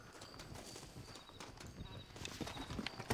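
Horse hooves clip-clopping in the Red Dead Redemption video game, a quick run of soft, close hoofbeats over a noisy, busy game background.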